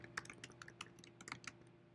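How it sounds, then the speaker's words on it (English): Light, quick keystrokes on a computer keyboard, a rapid irregular patter of soft clicks heard close up, with no talking. "you're going to type in the school district that you want to send them to"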